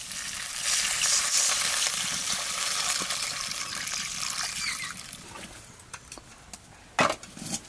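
Water poured into a pan of fried onions for a mutton curry, with a loud close hiss and bubbling that gradually eases, then a few sharp clinks and scrapes near the end and no voices.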